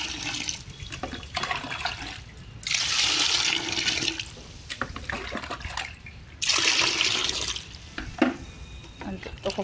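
Water pours in two loud gushing bursts into a mix of mustard cake and jaggery for a liquid plant fertilizer, with quieter trickling and handling sounds between the pours.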